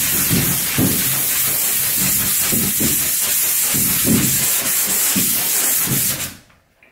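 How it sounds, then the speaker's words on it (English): 120 grit sandpaper rasps over dried wall patch compound in close, steady strokes, a continuous gritty hiss pulsing with each pass before stopping abruptly. "once the first coat's dry, we can then give it a quick sand with 120 grit sandpaper"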